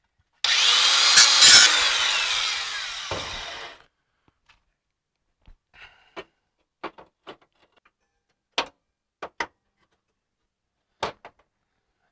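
Trimming the edge of a dash piece on a 1957 Chevy: roughly three seconds of steady close rasping cut, then a string of sparse, sharp taps and clicks in near silence.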